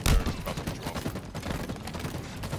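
Grenade blast and rapid gunfire in a fast Halo multiplayer match, dense and continuous with a loud burst at the start, overlapping shots throughout and faint voice chat underneath.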